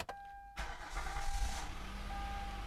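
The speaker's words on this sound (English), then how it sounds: "is my car going to start?" A Kia Sorento engine cranks briefly after a new battery is fitted, catches and settles into a steady idle, heard close up with no talk.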